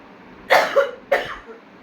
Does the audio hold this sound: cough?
yes